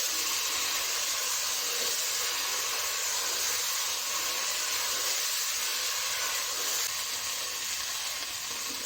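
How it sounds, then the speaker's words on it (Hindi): Beef kofta fry in gravy with a loud, steady, unbroken hiss of sizzling and steam that holds evenly throughout, close up, with no voices. "इस ग्रेवी को और कोफ्तों को हमने अच्छे से भूनना है"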